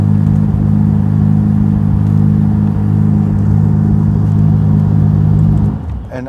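A 2021 Ferrari F8 Spider's warmed-up engine runs with a deep, growly rumble, steady and loud at close range throughout before easing off near the end.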